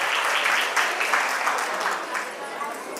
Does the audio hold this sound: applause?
yes